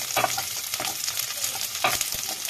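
Chopped onion, green chili and ginger garlic paste frying in hot oil, a close crackling sizzle with a couple of stirring scrapes over a short stretch.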